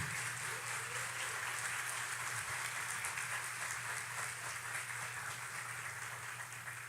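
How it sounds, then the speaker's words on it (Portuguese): Applause from a lecture audience honoring an emergency stroke-care team at a health talk, a steady broadband wash of clapping held at moderate level throughout with a low hum beneath. "Queria que vocês dessem uma salva de palmas para essa equipe."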